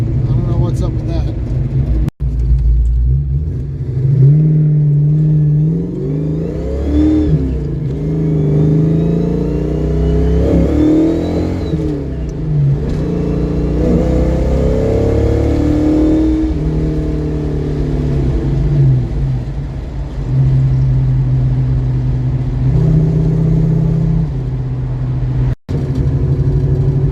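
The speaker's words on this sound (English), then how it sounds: "Backfiring and missing, but it's leveled out now." A Ford 302 V8 rumbles loudly while driving, with rising and falling revs and uneven stumbling from missing; a sharp backfire-like pop stands out briefly, and someone talks over the engine.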